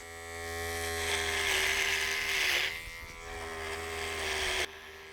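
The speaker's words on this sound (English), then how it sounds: "he finally pulled out his electric shaver" Electric shaver buzzing steadily as it shaves a beard, close and loud, its pitch dipping briefly as it presses into the stubble before cutting off near the end.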